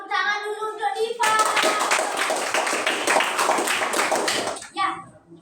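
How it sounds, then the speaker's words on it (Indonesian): A classroom of children claps for their classmate Diva, a dense burst of hand claps filling the middle of the clip after a voice, with speech resuming briefly at the end. "tepuk tangan dulu untuk Diva"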